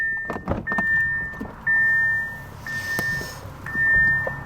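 An Audi e-tron GT electric car pulls hard inside the cabin, a steady synthetic drive tone rising in repeated whine steps over road rumble, with no talk.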